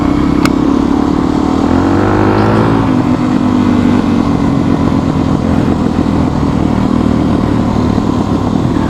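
Dual sport motorcycles, among them a KLR650, DRZ400S and WR250R, ride trails around St. George with a loud, continuous engine roar and wind rush up close, the revs climbing briefly before holding a steady, throbbing pitch.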